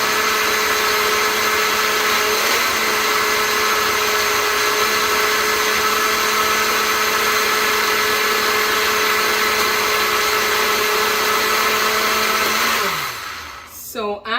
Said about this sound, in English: we had it at the grate mode on the blender to make sure that everything is nicely put together there